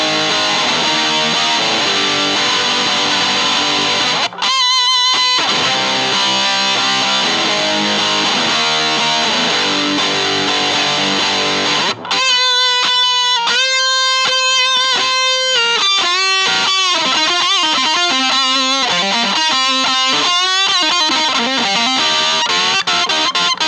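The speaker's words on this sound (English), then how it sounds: "I will go to the Boss DS2, which sounds like this." Electric guitar through a Boss DS-2 distortion pedal, loud sustained distorted chords giving way to a bending, vibrato-laden lead line with quick note changes, close and continuous.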